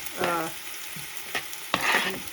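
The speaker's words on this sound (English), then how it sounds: "The onions needs to saute a little bit, so it's going to take some time." Onions with a little salt sautéing in a large pan for a Kerala-style duck curry, a brief sizzle with a few scraping stirs, close and moderately loud, no speech.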